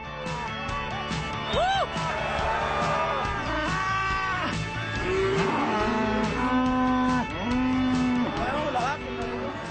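Cattle low and moo repeatedly while being herded into a corral on an Argentine estancia, several animals calling at close to moderate range in a steady series of long, rising bellows.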